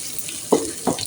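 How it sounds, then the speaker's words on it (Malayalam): Shallots with crushed ginger and garlic sauté in hot oil for a beef curry, with a low steady sizzle broken by two short louder bursts of stirring. "അതും കൂടി ഇട്ട് വാട്ടി ഇതുപോലെ വാട്ടിയെടുക്കുക"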